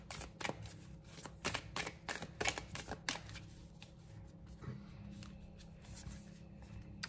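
Tarot cards being shuffled and drawn from the deck, giving a run of quick, close riffling snaps in the first three seconds, then softer card slides and taps, with quiet room tone underneath.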